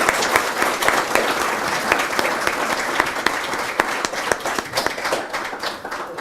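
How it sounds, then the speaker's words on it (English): A luncheon crowd gives volunteers a sustained round of applause, loud, dense clapping that carries steadily from start to finish with individual claps popping through. "Let's give you all a round of applause one more time"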